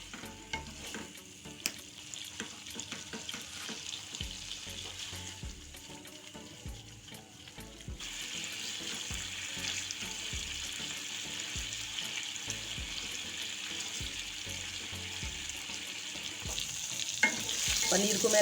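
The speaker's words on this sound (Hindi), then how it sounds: "अब हम इनको हल्के हाथों से टॉस कर लेंगे जिससे पनीर की पीस टूटे नहीं।" Paneer pieces dusted with Kashmiri red chili powder sizzle steadily in a hot pan for butter masala, with soft scraping and tossing throughout, growing louder and brighter in the second half; no talking.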